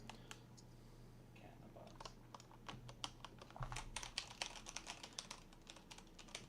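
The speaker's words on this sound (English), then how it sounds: "I got the blue switches when I was young because I liked the clickety-clackities. But clickety-clackities, they're loud." Fingers type on a mechanical keyboard with blue switches, a quiet run of rapid, uneven clicks that grows busier partway through over a low steady hum.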